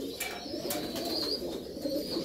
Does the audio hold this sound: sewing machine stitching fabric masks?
no